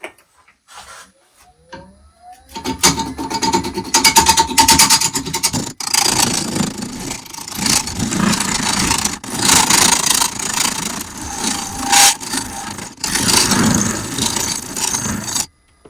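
A loud, raspy scraping of a tool cutting into a resin-filled walnut burr on a spinning wood lathe while turning a bowl, in long continuous passes broken by brief pauses.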